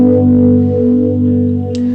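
A weird guitar effects pedal set to a sine wave with its intense button engaged gives a steady, buzzing harmonic drone that holds for two seconds, with a short glitchy burst near the end.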